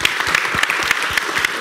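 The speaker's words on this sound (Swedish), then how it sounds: "En stor applåd till Jocke." A live audience at a panel event on digitalisation and welfare applauds its moderator, a dense steady patter of many hands clapping with no pauses and no one talking.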